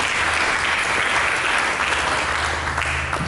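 A church congregation applauds during a sermon, making a dense, loud, steady wash of clapping that holds evenly from start to finish with no gaps.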